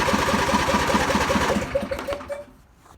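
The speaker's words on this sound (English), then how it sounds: "let's try a cold start." Small carbureted engine on a cold start with manual choke, chattering in a fast, even rhythm at close range before fading and dying away.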